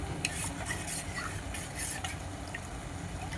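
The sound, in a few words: stirring spice mixture into water in a pot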